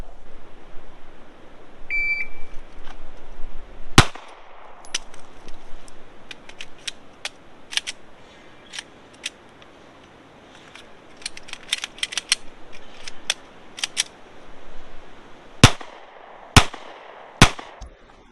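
Pistol shots ring out at an outdoor range during a timed shooting drill, starting with a shot-timer beep and a first loud crack. Irregular strings of sharp reports follow, with a gap in the middle while a magazine problem is handled.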